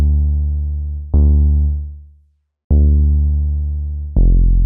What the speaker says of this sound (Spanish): este filtro que estamos poniendo es después de la distorsión